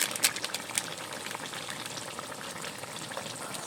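Fish curry with potato simmering in a pot over a fire, a steady bubbling sizzle that holds at an even level throughout, with a few sharper crackles near the start and no voices.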